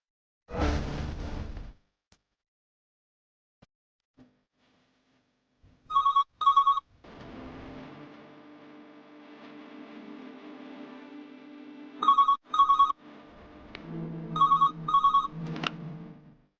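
Telephone ringtone sounds in bursts of paired electronic rings separated by quieter stretches of a low sustained tone and effects, after an opening whoosh-like swell.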